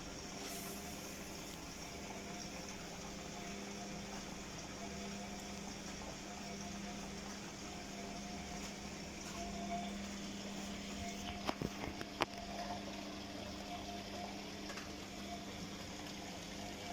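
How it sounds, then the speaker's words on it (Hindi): A Bosch front-load washing machine fills with water, a steady droning hum of inflow and pump running continuously at close range, with a few sharp clicks near the end and no voices. "मशीन पानी ले रही है"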